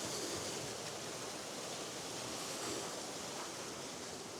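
River water rushing over rocks near Glenkeen Waterfall in the Slieve Bloom Mountains, a steady, loud, unbroken roar of flowing stream filling the whole stretch with no voices.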